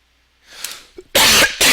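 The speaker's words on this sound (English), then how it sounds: "sorry about that cough right into the mic" A single loud, harsh cough blasted right into a microphone, preceded by a softer breathy throat sound, sharp and close-up.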